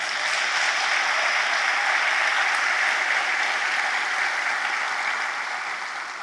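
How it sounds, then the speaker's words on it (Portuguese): An audience applauds steadily in a lecture hall for several seconds, a dense, even wash of clapping with no voices over it, fading slightly toward the end. "Agora vocês devem se aplaudir."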